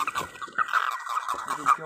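Birds call loudly in a rice field at night, giving repeated sharp, close calls with speech-like voices faintly mixed in.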